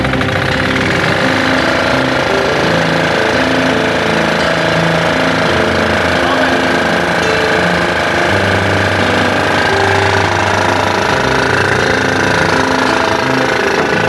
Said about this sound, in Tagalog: kung magbabago ba yung andar ng generator pag ginamit o hindi